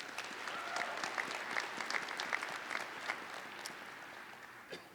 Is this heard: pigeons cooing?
no